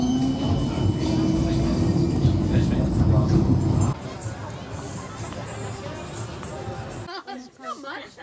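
A tram rumbles through Amsterdam with a steady low roar and rattle, people chattering nearby, before the noise drops and quiets near the end.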